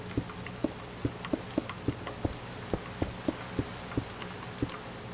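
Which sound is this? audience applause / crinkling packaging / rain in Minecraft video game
rain in Minecraft video game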